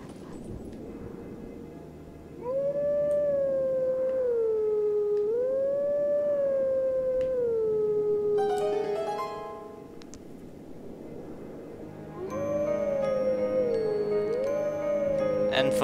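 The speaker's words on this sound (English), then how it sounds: "And for those wondering, this is a Song of Healing from Majora's Mask." Wolf Link howling the Song of Healing melody in Zelda: Twilight Princess, a sustained wavering howl tracing the tune in two phrases, loud and clear, broken by chiming musical flourishes.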